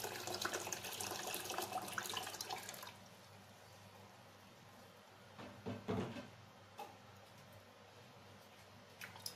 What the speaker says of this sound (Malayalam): അതിനുവേണ്ടി ഞാൻ എക്സ്ട്രാ വെള്ളം ഒഴിച്ചു കൊടുക്കുകയാണ്.